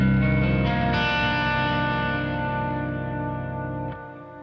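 A single distorted electric guitar chord in an alternative tuning rings out loud and sustained, slowly decaying with a slight effect shimmer, no voices.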